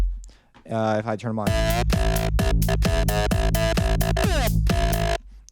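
A big room lead patch from the Harmor synthesizer plays bright, buzzy stabbed chords in a rhythmic pattern after a brief spoken phrase, with pitch sweeps at the start and end.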